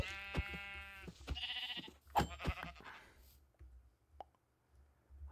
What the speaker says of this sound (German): Das arme Schaf.